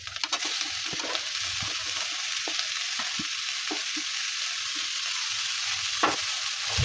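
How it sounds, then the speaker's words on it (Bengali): Carrot and cabbage for a momo filling fry in a pan, giving off a continuous close sizzle broken by the clicks and scrapes of stirring, with no talking. "এই যে গাজরটা আগে একটু ভাজাভাজি করে নিলাম, তারপরে আমি এই বাঁধাকপিটা দিয়ে দেবো।"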